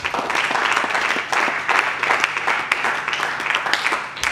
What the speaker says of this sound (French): Acclamons le Seigneur Dieu.